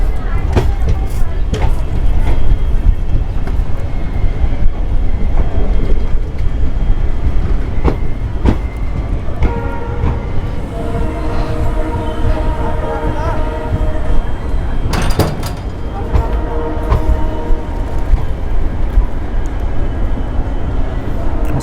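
Jammu Tawi–Jodhpur Express rolling through the Rajasthan desert after leaving Bikaner Junction: a steady, loud rumble and rattle of the coaches, with clattering bursts and someone talking over the noise.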